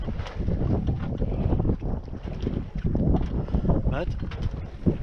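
A sailboat runs at night on the Baltic between Degerhamn, Karlskrona and Simrishamn, with steady rumbling wind buffeting the microphone and water washing along the hull, continuous and fairly loud.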